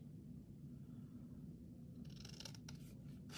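Scissors snip through paper scraps in quiet, brief bursts near the end, over a low steady room hum, faint and close with no talking.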